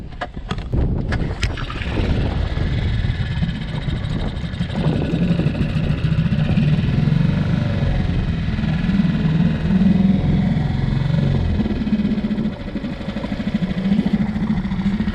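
Outboard motor on a fishing boat on the Desna river: a few sharp pull-start attempts at first, then the engine catches and runs at a steady drone with wind buffeting the microphone.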